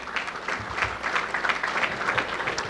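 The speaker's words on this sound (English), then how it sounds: "big round of applause." A big round of applause from the audience at a city's annual state-of-the-city event, dense steady clapping that holds evenly for a few seconds with no voices over it.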